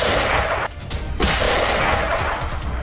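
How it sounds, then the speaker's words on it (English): Loud bursts of gunfire during a night wild boar hunt in Texas, a couple of sharp blasts breaking through a dense, noisy background. "The gunshot rang out."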